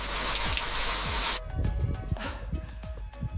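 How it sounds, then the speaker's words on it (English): Heavy rain pours down on Green Mountain as a dense, loud hiss that cuts off suddenly partway through, leaving scattered, close drips and patters. "The rain won't stop,"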